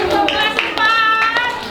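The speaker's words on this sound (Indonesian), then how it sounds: "Tepuk tangan untuk kelas" A fourth-grade elementary class claps hands together in a classroom. The short, scattered claps sit under children's voices and chatter.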